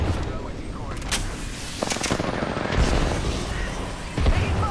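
Gunfire in the video game Apex Legends, a dense run of shots and booms under a constant game soundscape, with a voice talking over it.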